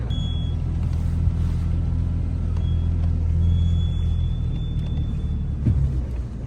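A heavy truck engine rumbles steadily and loud throughout while towing another truck at night, a deep continuous drone with a faint high whine riding above it.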